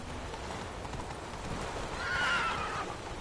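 Roach, the horse in The Witcher video game, gives a brief whinny in the middle of the clip with hooves clip-clopping over a soft ambient bed.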